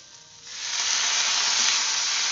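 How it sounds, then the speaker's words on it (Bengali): Pumpkin sautéing in a pan with a little water added, starting quiet and then swelling into a loud, steady hissing sizzle. "এবারে এটাকে অল্প সামান্য একটু জল দিয়ে আমি কষিয়ে নিচ্ছি"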